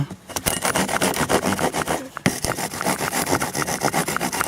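A small survival-kit saw cuts back and forth through wood in quick, rough, rasping strokes, close and fairly loud, with a brief pause partway before the strokes resume.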